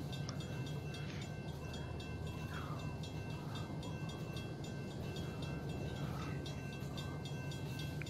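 A model train from the video game Rolling Line rumbles steadily past at low volume, a continuous, even rolling hum with faint squeals, heard alone.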